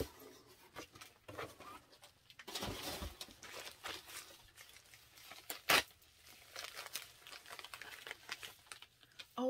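A paper envelope is torn open by hand during a shopping haul, giving several close, scratchy ripping and crinkling bursts with a sharp tear near the middle and quiet rustling between them.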